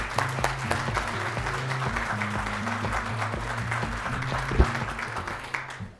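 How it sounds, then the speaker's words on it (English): Audience applause at a workforce summit event welcoming a public health researcher to the stage, steady sustained clapping filling the room with a low musical tone underneath, swelling slightly near the end. "Please give Dr. Goel a round of applause today."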